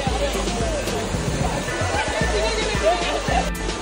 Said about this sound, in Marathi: जो मागे दिसत आहे तो आहे विठ्ठलवाडीचा वॉटरफॉल